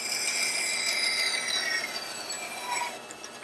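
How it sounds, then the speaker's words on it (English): A bandsaw cuts through wood for a jig, giving a steady whining buzz with a high ringing tone, moderately loud and continuous, fading a little near the end. "Turn on your bandsaw."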